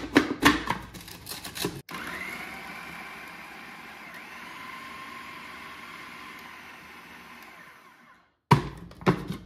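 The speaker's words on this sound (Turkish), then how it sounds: "Şimdi bunları da rondoda çekeceğim." An electric food chopper whirs continuously for several seconds as it purees two peeled, chopped tomatoes, a close, steady motor buzz with clattering handling noises before and after.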